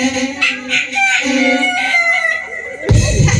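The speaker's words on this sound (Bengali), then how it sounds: "ওটা কাক না রে মুরগি" A rooster crows loudly and close by, one long drawn-out call with a clear pitched tone, followed by a short burst of rustling noise.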